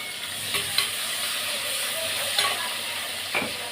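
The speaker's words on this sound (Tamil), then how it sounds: "வெங்காயம் கருவேப்பிலை போட்டுக்கிட்டேன்னா" Onions and curry leaves fry in a pan with a steady, crackling sizzle. A few sharp spatula scrapes break through, close and moderately loud, with no voices.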